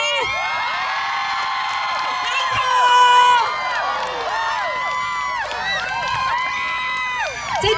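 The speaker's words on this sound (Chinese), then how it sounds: "再大声一点，让阿丽亚享受一下在家乡的土地上被几千人欢呼" Thousands of people at an outdoor seaside night concert cheer and scream in a loud, sustained roar of high-pitched voices that swells briefly midway.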